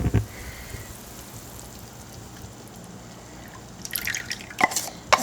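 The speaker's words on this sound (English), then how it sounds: "Now we're going to add the secret sauce, the heavy cream." Heavy cream poured into a pan already at a boil gives a soft, steady bubbling hiss, then a few sharper splashes and drips near the end.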